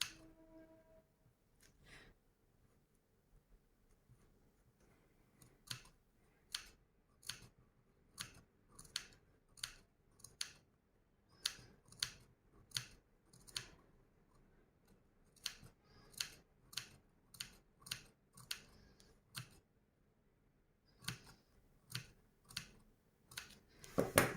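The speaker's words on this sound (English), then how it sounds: "I do the distressing by just cutting the seam allowance up like this." Sharp scissor snips cutting a fabric seam allowance repeat in quick irregular bursts, crisp and close, with brief pauses between runs of cuts and no talking.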